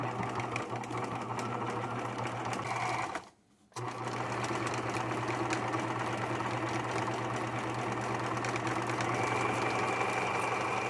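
A sewing machine stitching across a pair of jeans runs in a fast, steady mechanical drone with a low hum, stops briefly for a moment, then resumes and continues evenly to the end.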